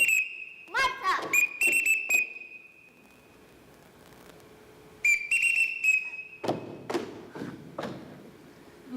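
Shrill whistle signals call a group of children in a household, heard as short piercing blasts and warbling trills near the start, a long held tone, then another burst followed by dull thuds and footsteps.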